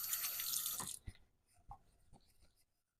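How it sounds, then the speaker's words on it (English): Water runs steadily from a tap during an evening self-care routine, a loud continuous splashing rush for about a second before it stops, followed by a few faint knocks and handling sounds. "And now I'm going to add a little bit of water."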